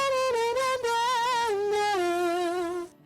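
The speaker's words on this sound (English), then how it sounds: "You can also go up here to distortion, which is a distortion." A sustained sung vocal with a gritty, harmonically rich edge, held loud and steady for about three seconds before cutting off abruptly.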